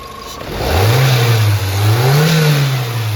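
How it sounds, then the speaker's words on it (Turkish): A repaired Renault Megane 1.6 16v petrol engine starts up close by, settling into a steady running hum with a gentle rise and fall in revs and no talk over it. "Aracımızı çalıştırdık arkadaşlar. Şu anda saat gibi çalışıyor."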